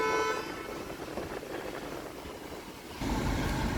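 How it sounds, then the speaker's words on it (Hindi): A Hyundai Alcazar car horn sounds in a sustained honk at the start, then a second blast comes in near the end over steady background rumble. "क्रेटा का फेमस हुआ हॉर्न है वही आता है"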